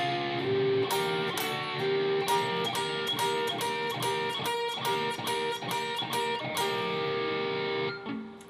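Slow electric guitar solo passage, a run of picked notes and bends played at reduced tempo, steady and up close with no talking.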